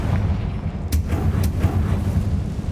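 A Confringo blasting spell goes off in Hogwarts Legacy, a couple of sharp, booming blasts landing over a dense, rumbling game soundscape.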